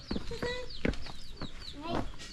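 Chickens in their coops cluck and squawk in short bursts close by, a few calls overlapping over a quiet background, in Kalibo, Aklan, Philippines.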